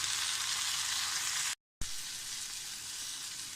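Onion fries in coconut oil with a steady, bright sizzle that cuts to silence for a brief moment, then resumes just as loud.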